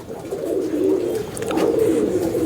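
Doyash pigeons, a Madrasi breed kept in a loft at Ichhapur, Kolkata, give a continuous low, rolling coo that swells and fades over a soft background, close by and fairly loud, with no talking.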